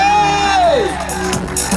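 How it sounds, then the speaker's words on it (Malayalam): An audience at a men's wear shop's anniversary programme in Attingal cheers loudly, with a long falling whoop from one voice over steady crowd noise, then claps and shouts close by. "ഒരു ആറ്റിങ്ങലിന്റെ കയ്യടി."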